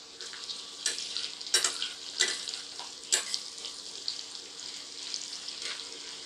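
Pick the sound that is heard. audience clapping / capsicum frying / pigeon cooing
capsicum frying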